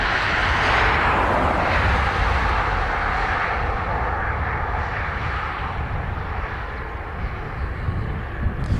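CASA C295 turboprop landing at Dublin Airport, a loud, steady engine roar that slowly fades and lowers in pitch as the aircraft passes and sets down.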